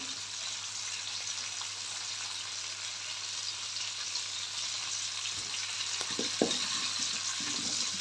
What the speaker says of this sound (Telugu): మరికొంచెం జీలకర్ర వేస్తున్నాను బాగా